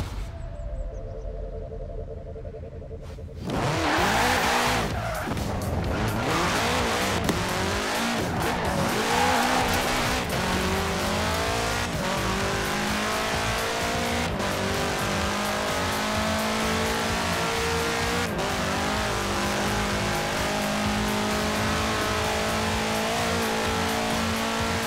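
A 1966 Volkswagen Beetle fitted with a 2.5-liter F4 turbo engine in Forza Horizon 4 bursts into a loud, sustained engine roar after a quiet start, with revving, gear changes and tire squeal continuing steadily throughout.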